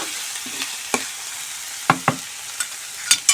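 Spices frying in a pan for a broiler chicken curry, a soft steady crackle with a few sharp stirring clicks and scrapes standing out, close and alone without voices.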